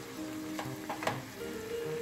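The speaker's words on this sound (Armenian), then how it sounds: "սա նույնպես կթողնենք միասին մի փոքր տապակվի" Tomato frying in a pan while barley soup is being made, giving a steady close sizzle with a few brief stirring scrapes and bumps.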